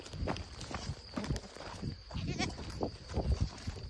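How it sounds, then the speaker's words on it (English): Goats on an alpine meadow in the German mountains near Freiburg give several faint, scattered bleats amid soft shuffling and hoof sounds, fairly quiet and close, with a little speech mixed in. "They think I'm gonna steal their fucking goats."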